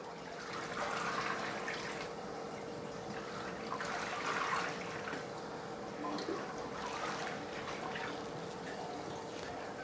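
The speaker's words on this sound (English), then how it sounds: "So the wave maker can give it a good mixing." Steady churning and trickling water from an aquarium wave maker stirring a reef tank, a continuous even wash with a faint pump hum underneath.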